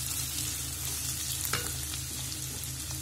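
Vegetables and a couple of garlic cloves fry in a pan, a steady close sizzle with a few soft stirring scrapes and no talking.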